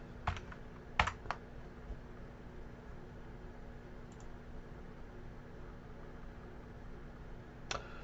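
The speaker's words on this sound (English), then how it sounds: "And we're going to type in 3 and hit enter." Computer keyboard keys click a few times, with a quick cluster of sharp taps near the start and one isolated click later, over a quiet hum while working in Microsoft Excel.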